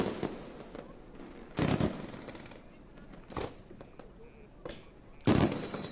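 Fireworks bursting over the ghats of Varanasi during Dev Diwali celebrations, with several loud, sharp bangs spaced a second or so apart over a constant crowd murmur.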